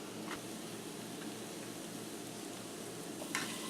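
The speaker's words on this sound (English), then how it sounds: "Egg frying action." Steady crackling sizzle of eggs frying in a hot pan, continuous and fairly close, with a few brighter pops and spits scattered through.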